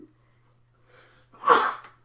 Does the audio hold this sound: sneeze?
yes